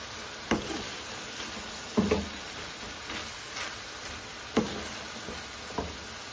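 Sliced onion being stirred into chicken liver frying on a tawa, dhaba style: a soft, steady sizzle broken by several sharp scrapes and knocks of the spoon against the pan at irregular intervals, with no voices.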